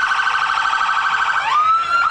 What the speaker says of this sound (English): They do like their sirens